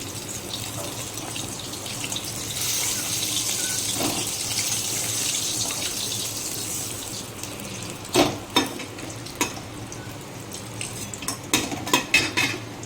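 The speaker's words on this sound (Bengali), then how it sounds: "আমার এই মাছগুলো ভাজা হয়ে গেছে, আমি তুলে ফেলবো এবার" Fried tilapia pieces being lifted out of a pan of hot oil, a steady sizzle followed by a run of sharp metallic clinks and scrapes of a utensil against the pan.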